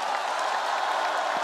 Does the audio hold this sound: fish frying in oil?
no